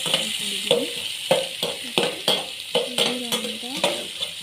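Fried beetroot palya stirred in a pan: repeated rhythmic scraping strokes over a constant sizzling hiss, close and fairly loud.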